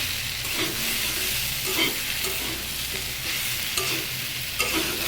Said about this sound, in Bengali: এভাবে অনেক সময় ধরে কষাতে হবে সবজিটাকে।